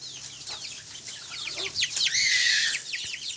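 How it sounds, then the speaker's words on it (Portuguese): A rooster kept with hens in a backyard lets out close, clucking calls that rise into a louder, harsh squawk partway through, with no talking over it. "E eu tenho um galo também,"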